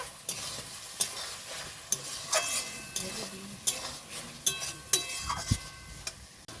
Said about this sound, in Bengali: মাংসটাকে আমি ভালো করে কষিয়ে নিয়েছি।